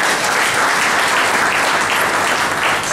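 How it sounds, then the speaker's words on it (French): A hall audience at an evangelical theology school graduation ceremony claps for a pastor, steady and dense with no break, close and loud throughout. "Je vous prie d'applaudir au Pasteur Terville."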